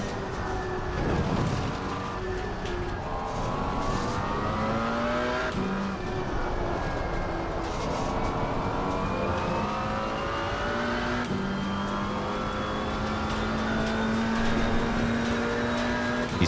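Race car engines in Assetto Corsa Competizione at Oulton Park during a multiclass endurance race, rising and falling through gear shifts as the car brakes and accelerates through corners, with several cars layered together in a dense, continuous roar.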